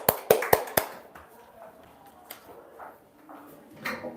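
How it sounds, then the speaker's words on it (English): A few sharp claps at the start, then faint scattered sounds in a classroom speech contest before a young student speaker named Eve begins; brief and light rather than sustained applause. "Let's clap our hands for"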